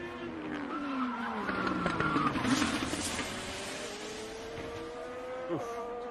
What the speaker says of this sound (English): Oh, that's a big hit for Romain Grosjean in the number 28 DHL car.